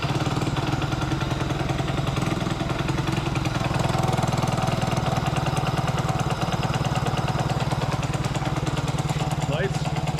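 Engine on a snow bike kit fires up and keeps running with a steady, loud, rapid thumping idle close by throughout, constant and unbroken from start to finish.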